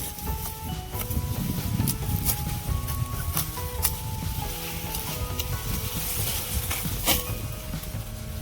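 Rain falling steadily on a Gujarat farm during the sowing season, a continuous soft patter and hiss with scattered drip ticks, heard fairly close and alone.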